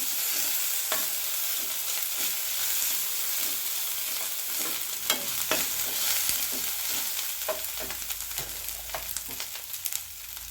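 Mushrooms sautéing with ginger garlic paste in a pan for a Chettinad-style gravy, giving a steady close sizzle with repeated clicks and scrapes of stirring throughout, no voices.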